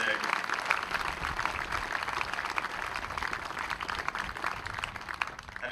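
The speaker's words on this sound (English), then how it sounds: "So please give them a round of applause for their wonderful job today." A crowd at a 2nd Marine Logistics Group change-of-command ceremony gives soft, even applause that sounds distant and continuous throughout.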